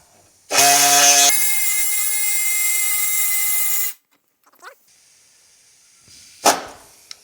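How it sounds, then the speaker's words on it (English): A loud, high-pitched power drill whines steadily for about three seconds cutting sheet metal on a 1965 Chevelle Malibu SS, then cuts off, followed by a couple of brief scraping clicks. "then we'll probably drill a hole here and here and connect the dots"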